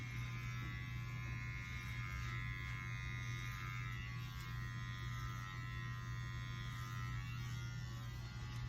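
Electric hair clippers run steadily during a zero-blend clipper haircut, a close, constant motor buzz with no break or change, and no talking.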